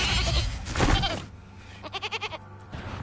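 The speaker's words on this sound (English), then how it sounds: "turn that wolf into a goat?" Goat bleating in the Hogwarts Legacy video game, a short run of quavering bleats following louder game sounds and ambience.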